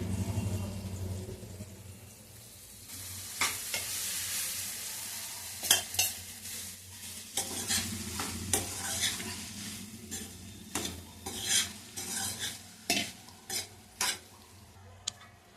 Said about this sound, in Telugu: ఇప్పుడు బాగా కలుపుకుందాం ఫ్రెండ్స్.